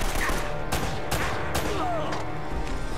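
Shotgun fire in the video game Uncharted: Drake's Fortune: several loud booming blasts spaced about half a second apart over dense combat noise, with a faint voice underneath.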